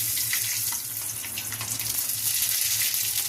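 Bay leaf, radhuni and fenugreek seeds frying in hot oil while Bengali home-style shukto is cooked, giving a continuous close sizzle and hiss that stays fairly even throughout.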